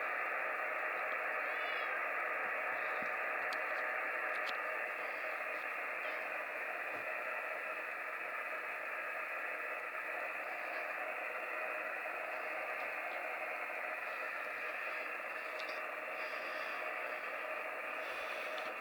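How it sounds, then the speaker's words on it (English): Steady, loud hiss of radio static runs without a break, with a faint tone inside it as a radio processor's notch filter works on the signal. Faint clicks and specks of interference sit above the broad noise. No voices. "The processor in the radio is going to begin to isolate that tone. It will darken it up."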